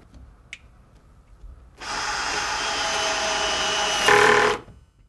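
Power tool driving screws into cabinet hinges, a steady whirring drive of about three seconds that rises briefly in pitch before stopping, heard alone with a faint click before it.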